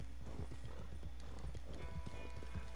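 Video-game horse with steady clip-clopping hooves and a whinny, loud and close, over a constant background hum, with no voices.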